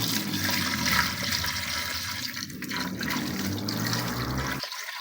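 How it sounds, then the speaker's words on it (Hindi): Water pours and gushes steadily into a cooking pot of mutton trotters for paya, a loud continuous splashing rush that cuts off abruptly near the end. "इस स्टेप पे आके हम इसमें इतना पानी ऐड करेंगे जिसमें ये डीप हो जाए"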